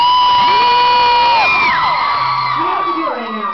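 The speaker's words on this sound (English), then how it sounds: "if you cheer really, really loud, there's a very, very good chance that we'll be back in 30" A large crowd at a concert at the House of Blues in Cleveland cheers, whoops and screams loudly and continuously, with many overlapping high voices close to the microphone.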